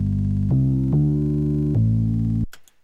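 A hum bass synth sample in Amiga OctaMED plays a sustained bass line, holding buzzy, harmonically rich notes that step between pitches before cutting off abruptly near the end.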